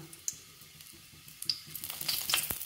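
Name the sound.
asafoetida and urad dal frying in hot oil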